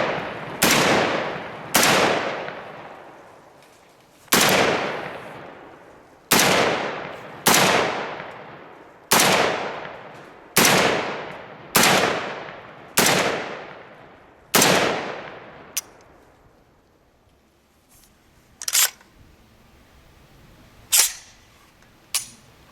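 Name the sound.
CMMG MK47 Mutant rifle firing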